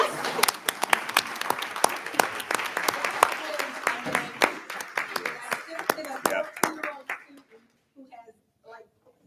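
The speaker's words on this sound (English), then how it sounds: "give AJ a round of applause" A room full of people clapping at a candidate forum, fairly dense applause that thins out and fades to a few scattered claps at the end.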